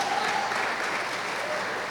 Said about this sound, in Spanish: Si va a aplaudir, hágalo con gozo.